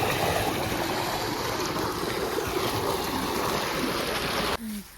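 Water gushing from a village tubewell in Pakistan, a loud continuous broadband rush close by that runs steadily before cutting off abruptly near the end, leaving a brief quieter moment.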